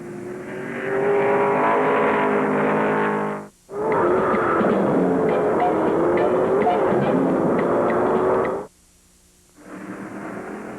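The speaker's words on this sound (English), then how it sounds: "With a flat-out stand-on-it charge down the front chute, Jack Bowsher passes Nelson on the inside" USAC stock cars race at Wisconsin International Raceway in 1971, loud engines roaring flat out with pitch shifting as cars pass, broken by two brief cuts to near silence.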